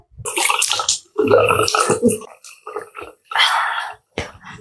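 Running water splashes in uneven bursts during face washing, with short gaps between splashes and close, fairly loud, fizzy hiss.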